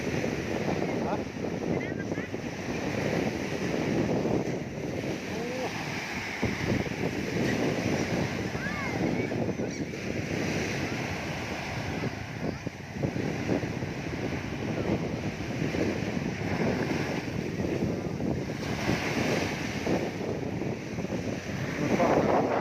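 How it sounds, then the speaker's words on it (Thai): Surf rolls in steadily on the beach at Jomtien, Pattaya, on a rough-sea evening, a continuous broadband wash of breaking waves with wind buffeting the microphone and people talking over it. "ได้ยินเสียงว่าเสียงทะเล"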